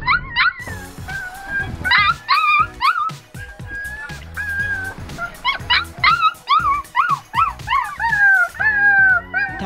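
A small dog howls and yips in long rising and falling wails, repeated through the clip, loud and close with no talking.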